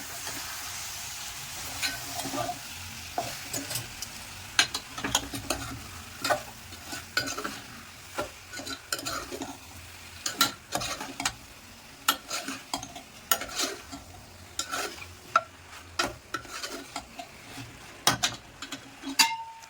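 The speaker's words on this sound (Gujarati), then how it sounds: "હવે આની અંદર આપણે પાસ્તા એડ કરીશું, બોઇલ કરેલા. ધીમે ધીમે એને મિક્સ કરીશું." Boiled pasta being stirred into masala in a pan, with repeated scraping and clacking of a utensil against the pan over a soft sizzle, steady and close for the whole stretch, no talking.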